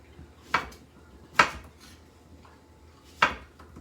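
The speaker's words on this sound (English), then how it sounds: "I'm just going to start chopping" Three sharp knife chops through zucchini on a cutting board, spaced irregularly, close and distinct against a quiet background.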